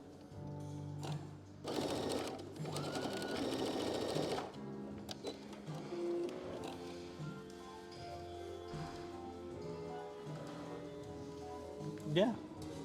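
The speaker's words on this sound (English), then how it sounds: "I can just sew straight up until that clip" A domestic sewing machine runs a straight seam for a fabric garment, a steady mechanical whir that surges loudest for a few seconds near the start and then hums more quietly, with faint rustling and a brief sharper sound at the end.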